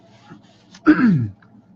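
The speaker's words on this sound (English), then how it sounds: "Excuse my coughing and clearing my throat." A single short throat clear, close and fairly loud, lasting under half a second amid near silence.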